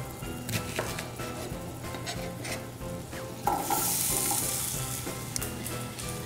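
Quartered onion frying in corn oil in a pan keeps up a continuous sizzle, with occasional utensil scrapes and a louder, brighter hiss about halfway through.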